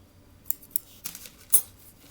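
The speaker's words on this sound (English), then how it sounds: "I'm going to just snip that off right on the crease." Scissors snip paper for decoupage on a chunky canvas, giving three or four quick, close, crisp cuts over about two seconds in a quiet room.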